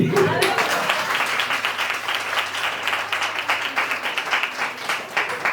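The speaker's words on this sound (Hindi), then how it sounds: "बुझाओ ताली।" Audience applause at a spiritual talk, a sustained burst of steady clapping from a crowd, loud and continuous throughout.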